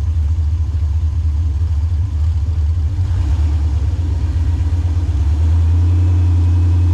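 A jet boat engine fitted with a loud exhaust runs steadily near the shore, a deep continuous rumble that swells slightly louder toward the end, with no talking.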